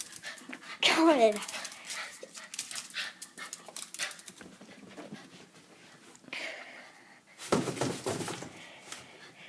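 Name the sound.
dog panting and whimpering while chasing a light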